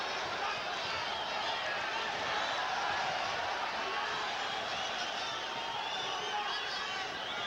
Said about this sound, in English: Good combination by Gonzalez brings a roar of approval from the predominantly Gonzalez crowd here at the Great Western Forum.